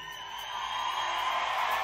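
Church congregation whooping and shouting during a sermon, a steady crowd roar that swells louder midway and holds, with no clear speech on top.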